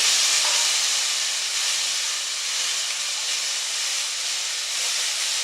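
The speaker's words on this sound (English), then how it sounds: "We're going to saute that for about 5 minutes" Vegetables sauté in a pan for pasta e fagioli, giving a steady, close, broadband hiss that stays even and unbroken throughout, with no voices.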